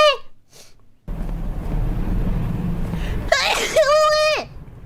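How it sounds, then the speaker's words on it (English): A single sudden sneeze bursts out up close, followed by a brief voiced exclamation and surrounded by low background noise. "I sneezed."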